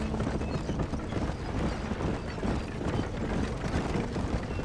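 A horse gallops close behind in Red Dead Redemption, its hooves drumming a rapid, steady clip-clop rhythm over constant outdoor rumble, loud and near throughout.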